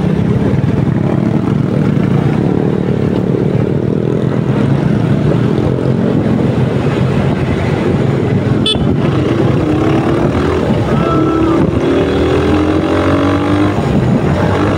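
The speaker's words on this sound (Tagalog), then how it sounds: "magandang tinig ng makina natin" Vehicle engine running steadily throughout while driving through a city street toward a basilica, a continuous loud drone with a brief sharp horn-like toot partway, no speech.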